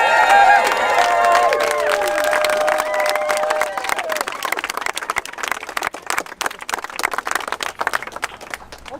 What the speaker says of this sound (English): Give a big round of applause to the MP